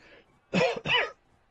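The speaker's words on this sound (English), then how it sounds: "Cough." Two sharp, close coughs come in quick succession, each about a quarter second, loud against a quiet background.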